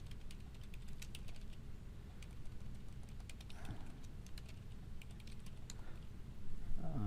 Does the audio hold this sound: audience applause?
no